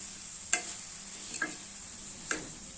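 Cluster beans being stirred in a pan, giving three sharp spoon scrapes and clinks against the metal about a second apart over a faint steady hiss.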